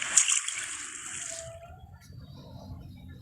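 A large splash of water dumped onto a sleeping person, a sharp loud burst at the start that fades into softer dripping and trickling.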